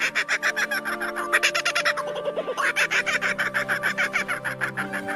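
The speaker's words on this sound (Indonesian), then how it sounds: "Burung ini terkenal karena suaranya yang mirip dengan suara orang tertawa." Kookaburra, the largest member of the kingfisher family, gives its rhythmic laughing call, a rapid run of loud cackling bursts that rises and falls across the whole stretch with no voices.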